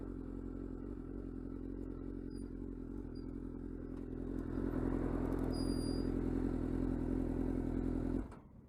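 A sport motorcycle pulling up to a stop beside a beach on a holiday: a steady engine drone that swells briefly and then cuts off sharply, with faint high chirps above it.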